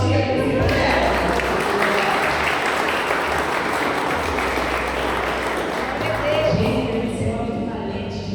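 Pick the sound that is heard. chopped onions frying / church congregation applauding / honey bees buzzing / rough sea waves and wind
church congregation applauding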